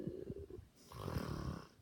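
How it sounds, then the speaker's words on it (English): A character snoring in a bedtime story, two loud, close snores, each a rough drawn-out breath, the second longer and deeper. "Red snored bravely."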